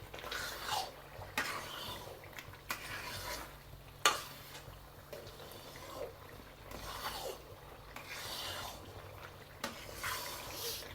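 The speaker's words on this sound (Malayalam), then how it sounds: "ഇതെല്ലാം കൂടെ നല്ല മിക്സ് ചെയ്യുക." A thick jackfruit and coconut halwa mixture is stirred in a pan, giving continuous scraping, rubbing strokes in repeated sweeps with a soft sizzle underneath, close and steady throughout.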